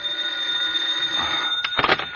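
A telephone bell rings steadily in an old 1947 radio drama, a continuous metallic trill that holds for over a second before breaking into a clattering pickup at the end.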